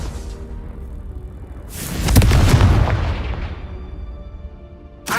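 A Confringo spell from Hogwarts Legacy detonates in a single loud, booming blast partway through, then rolls off into a long fading rumble. A faint sharp crack follows right at the end.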